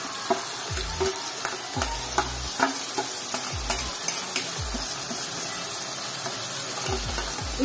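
Barnyard millet (bhagar) stirred and fried in a pan, with steady sizzling and repeated scraping strokes of the stirring spoon, close and continuous with no talk.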